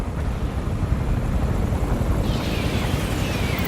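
A Mi-80 Tarantula helicopter in Tom Clancy's EndWar gives a loud, constant rotor and engine roar, broadband and steady, with a rising whine entering partway through.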